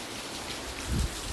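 Rain falling steadily in Hyderabad, a close continuous patter with a brief low thump partway through.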